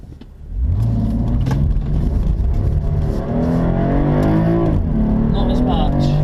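A BMW M4 Competition Package driven hard with traction control off: the engine roars and revs upward through rising pitch sweeps, with a brief dip and gear change midway, loud and close, while someone talks over it.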